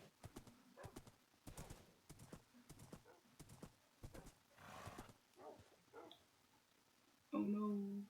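Horse hooves clip-clop in the video game Minecraft as a series of distinct, evenly spaced thuds, followed by a brief louder tonal sound at the end.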